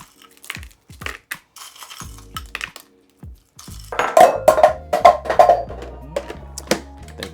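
Ice cubes tumbling and clattering against a food processor bowl holding meat paste for meatballs, starting with sparse clinks and building to a louder rattling burst of hard knocks.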